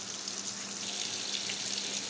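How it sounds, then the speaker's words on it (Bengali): Steady, bright sizzle of large magur catfish pieces frying in hot oil in a wok, a continuous close crackling hiss with no talking. "মাছটা সবে হালকা ভাজা হয়েছে"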